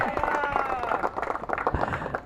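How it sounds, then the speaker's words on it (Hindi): A crowd at a local cricket league final claps and cheers for a player, a busy, continuous spatter of applause beneath a loud announcer's voice, with tonal crowd noise running through it. "तालियां होनी चाहिए"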